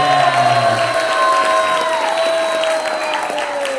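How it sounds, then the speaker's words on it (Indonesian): A school audience applauds the newly announced junior high student council president, loud continuous clapping with a few cheers, while tonal music or a sustained electronic tone runs underneath. "Tepuk tangan sekali lagi."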